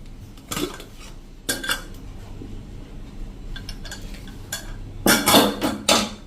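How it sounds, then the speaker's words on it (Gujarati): Metal clanks and scrapes of a pressure cooker lid being opened, a few sharp bangs spaced out, with a cluster of louder clatter near the end. "તો આપણે કુકર ખોલી લઈએ."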